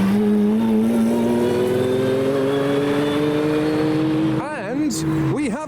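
A Jaguar XJR-15 supercar drives past on the road, its engine note rising steadily as it accelerates, then dropping through quick downshifts as it goes by, loud and close.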